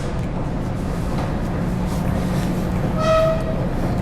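A loud, continuous rumble of an underground metro train in France fills the space, and near the end a short tonal horn or chime sounds over the steady noise.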